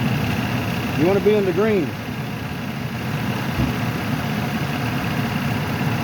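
Car engine idling steadily while its air-conditioning compressor runs during a freon recharge, a constant low hum with someone talking over it.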